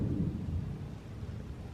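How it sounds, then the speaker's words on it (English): A low rolling rumble of thunder from a dry thunderstorm outside, faint and distant, fading slowly over a couple of seconds. "but it's just like a lot of thunder."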